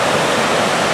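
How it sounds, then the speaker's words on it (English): Water roars over the dam at Vickery Creek in Old Mill Park, a loud, dense, continuous rush close by with no voices. "she's a roaring today, all that water coming down"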